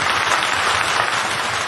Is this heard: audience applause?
yes